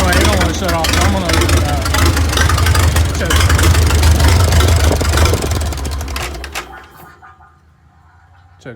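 Farmall A tractor engine running after being started, a loud close rumbling chug with voices over it, cutting off sharply near the end.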